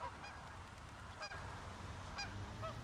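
Barrow's Goldeneye ducks give a few short, faint nasal calls at a distance, spaced irregularly over a steady background of water and wind noise.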